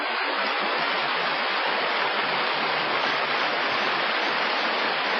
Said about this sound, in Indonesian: Air terjun Sigura-gura yang telah berkurang airnya.